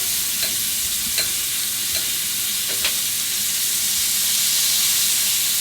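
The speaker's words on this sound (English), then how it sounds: "In case you're wondering what this is, it's called pan basting." Pork chops pan-basted with butter in a hot pan give a steady, close sizzle and hiss, with a few soft clinks of a spoon or utensil against the pan.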